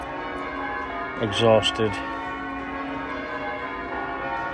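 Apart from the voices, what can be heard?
church bells ringing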